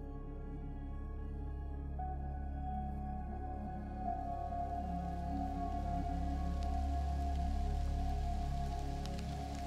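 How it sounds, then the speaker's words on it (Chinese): Rain falls on the mesh fabric of an outdoor art installation, making a soft, steady patter over a constant low hum, with no voices. "下雨的时候，我们的网布除了是允许水自由穿入，它甚至对水做出了某种干涉。"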